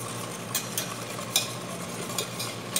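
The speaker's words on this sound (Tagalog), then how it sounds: "Mix lang natin ito." A spoon stirring a caramel crema mixture in a bowl, with a soft continuous swish and a few light taps of the utensil at irregular moments, close and fairly quiet.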